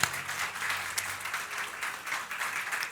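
A church congregation gives applause to the Lord during a sermon, a brief, moderately loud patter of many hands clapping with a slight swell and dip.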